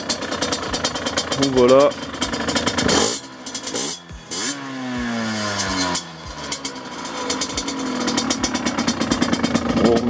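A Gilera SMT 50cc motorcycle, a Derbi DRD Extrem, is kick-started with a few sharp kicks, then its small engine catches and settles into a close, buzzing idle; someone speaks briefly at the start.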